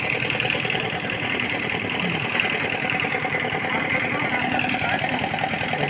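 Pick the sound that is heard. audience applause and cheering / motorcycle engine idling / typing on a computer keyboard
motorcycle engine idling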